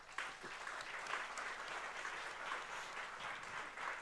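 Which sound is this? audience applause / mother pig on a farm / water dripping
audience applause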